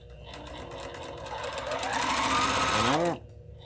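A Brother XE2 sewing machine runs steadily with a rapid mechanical whir that grows louder, then winds down and stops abruptly near the end.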